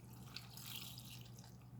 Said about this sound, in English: we're gonna add a half a cup of water